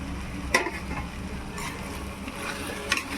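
Prawns fry with ginger garlic paste in a pan, a steady low sizzle broken by a couple of sharp utensil scrapes or clinks, close up and with no talking.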